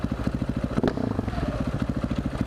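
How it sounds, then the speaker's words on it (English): A motorcycle exhaust is revved in traffic to warn other drivers, a loud, steady rapid engine pulse with a brief surge of rumble and rattle, heard close and without talk. "Love about this bike, you just use the exhaust to let people know you're there."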